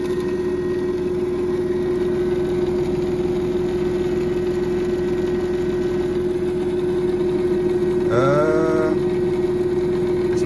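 A JFJ Easy Pro disc resurfacing machine runs on a two-minute cycle, putting out a steady, close motor hum with a constant tone. Near the end a brief rising whine sounds over it.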